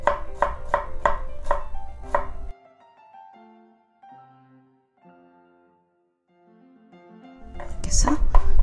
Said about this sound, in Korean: 그래서 마늘을 이제 다져보겠습니다.